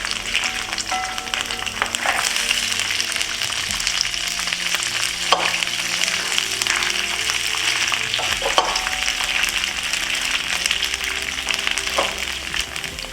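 Rinsed rice stir-fries in extra virgin olive oil in a hot skillet, sizzling loudly and continuously, with occasional scrapes and clacks from a stirring utensil.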